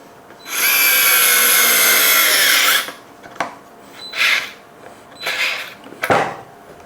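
A DeWALT DWHT66719 electric screwdriver runs at sixth speed in one loud, steady whine of about two seconds, followed by several shorter clicks and brief handling rasps up close.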